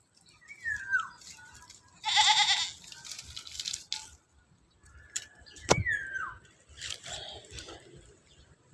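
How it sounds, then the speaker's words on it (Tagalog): Goats bleat while being fed in hot, dry weather, with a few separate wavering calls spread across several seconds, close and clear, between quiet gaps and a sharp knock. "Tara pakainin natin yung kambing natin na si Mikmek."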